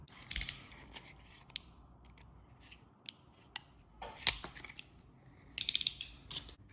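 Scissors snip at an Esky 150 V3 RC helicopter body, several sharp close cuts in irregular clusters with small clicks and mechanical rattles between them, and no voices.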